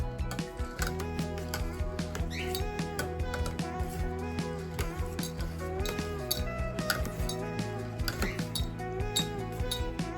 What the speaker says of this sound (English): Now let's mix it.